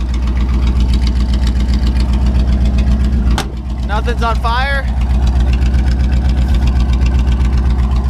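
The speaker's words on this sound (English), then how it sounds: "I got no exhaust, so it sounds a little loud" A loud, open 327 V8 in a 1967 Chevy C10 truck idles at first start with no exhaust fitted, a rapid, uneven lumpy throb throughout; a sharp click and a brief spoken remark interrupt midway.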